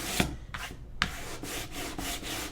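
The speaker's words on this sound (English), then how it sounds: "I'm gonna sand." Sandpaper rubs back and forth over a wooden Santa sign, giving several steady rasping strokes in a continuous close-up rhythm with a couple of sharper scrapes and no talking.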